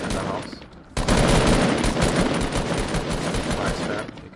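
Dense, sustained automatic gunfire in a video game, fired through the walls of a house, breaks in loudly after a quieter moment and keeps up a rapid rattle for several seconds before easing off.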